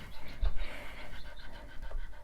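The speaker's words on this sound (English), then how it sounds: "If you hear panting, this is why. It's not coming from me." Rapid rhythmic panting from an animal, likely a dog, close and steady throughout, breathy and continuous in a room where chicks are kept.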